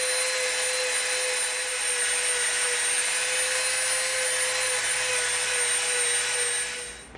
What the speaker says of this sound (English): we're going to Dremel from this line to this line